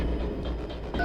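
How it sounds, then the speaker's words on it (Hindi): A phone is dialed to call for backup in a forest scene from a crime drama. Beyond a low steady hum, a short keypad tone sounds right at the end, close and clear. "एसीपी साहब को फोन करना पड़ेगा बैकअप के लिए"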